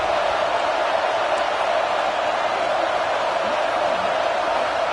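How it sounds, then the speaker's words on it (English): Football stadium crowd roaring during a red zone defensive stand, a constant, even wash of distant voices with no breaks, moderately loud and without clear speech. "And here comes the noise. This crowd is trying to inspire this defense to make a big red zone stop."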